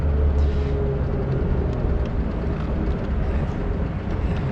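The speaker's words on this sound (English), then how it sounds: "so you can kind of hear that little bit of the valve lash tick I was telling you about" A 1941 Lincoln engine idling with a valve lash tick, giving a steady, dense low rumble that holds evenly throughout at close range.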